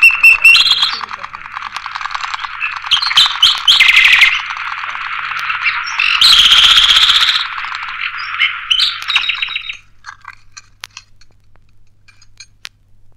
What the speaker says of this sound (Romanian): să ne mai desfete puțin privighetoarea cea măiastră.